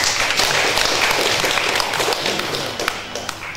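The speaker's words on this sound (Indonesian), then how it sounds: "Kita tepuk tangan untuk kor." Dense, steady applause from a wedding crowd for the choir, continuous clapping filling the space and slowly tapering off toward the end.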